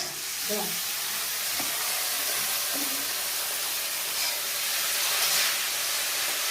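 Potatoes and eggplant sizzle in a cooking pan with green chillies for a small-fish chorchori, a steady bright frying hiss throughout with faint stirring knocks early on.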